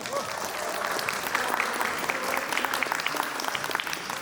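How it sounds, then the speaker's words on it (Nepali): An audience at a group dance competition in Tokyo, Japan claps loudly and continuously for several seconds, with faint crowd voices mixed into the sustained applause. "जोरदार ताली स्वागत गरौँ"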